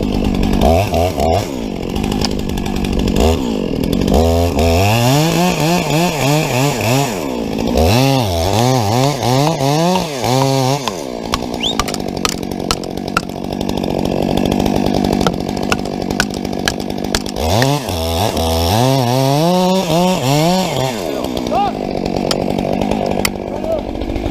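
Chainsaw felling a tree at the hinge revs up and down in repeated close, loud bursts, with a person talking over the engine.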